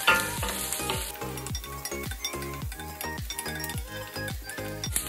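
Ginger and garlic sizzle in a hot pan while a utensil stirs, giving a continuous frying hiss with a regular series of close scraping and clinking strokes.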